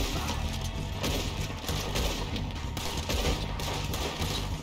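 Revolver fire in Red Dead Redemption 2, with rapid overlapping gunshots crackling continuously through a dense, mid-distance firefight amid mechanical clatter.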